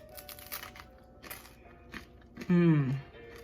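Crisp crunching bites of flax crackers sound close to the mic, several sharp cracks and chewing, followed by a brief vocal reaction.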